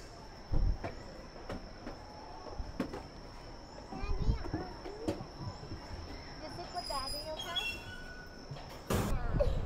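A small amusement train runs at Ho Chi Minh City Zoo, rumbling faintly with occasional wheel squeals, while people and children talk nearby over a busy outdoor background.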